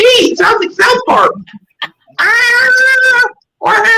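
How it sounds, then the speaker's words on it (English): A cat in heat caterwauls in long, loud, wavering yowls, several drawn-out cries with short gaps between them, close and dominant. "that's an actual cat in heat"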